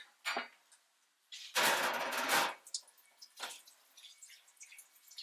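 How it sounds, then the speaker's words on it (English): Tap water runs into a kitchen sink over a bowl used for eggs, in short gushes: a quick spurt, a longer rushing stream for about a second, then scattered splashes and drips. "Let me just run a little bit of water over top of it."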